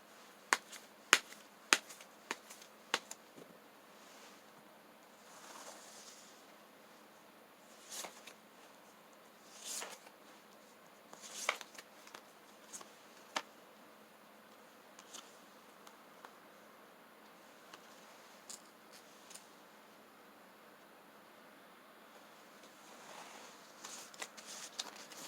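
Tarot cards are shuffled and drawn, giving faint, sparse flicks and snaps spread across a quiet stretch, with a few sharper slaps near the start.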